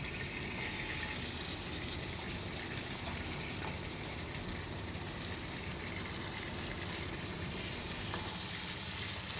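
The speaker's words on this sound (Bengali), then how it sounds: "মাছটা চাকা করে নিয়ে আসি, মোটা মোটা করে, ওর জন্য একটু হালকা করে এপিট আর ওপিট করে ভেজে নিচ্ছি" Thick steak pieces of bhetki fish fry in hot oil, turned from one side to the other, with a dense, constant sizzle that stays close and even throughout.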